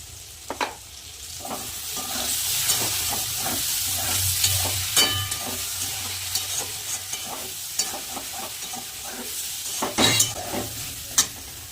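Beans and eggplant frying with spices in a pan, a loud, close sizzle broken by repeated scraping and stirring strokes at an uneven pace, with no voices.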